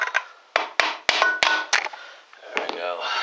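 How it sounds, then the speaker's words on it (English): Hammer taps on a Ford 4R70W transmission part seated tightly in its housing: several sharp, distinct metallic knocks spaced unevenly over a few seconds, close and fairly loud, with handling noise between them. "Take my hammer and tap on it,"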